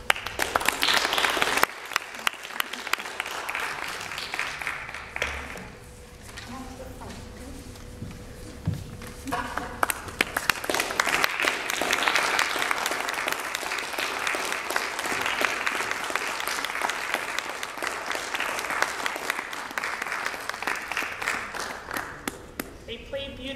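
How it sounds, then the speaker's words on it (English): A chamber music concert audience applauds the performers at the close of a summer series, with dense, sustained clapping throughout, a brief dip partway, then rising again; a voice speaks faintly beneath the applause. "I want to invite all the performers up to the stage once again for one last round of applause."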